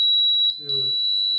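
A smoke detector buzzer in a fire alarm system holds a loud, steady high-pitched tone throughout, while someone speaks briefly underneath it partway through.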